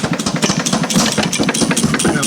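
A Detroit Engine Works 2HP engine with its governor adjusted to slow it, running steadily at a loud, close, even chugging idle with a rapid rhythmic beat and no talk.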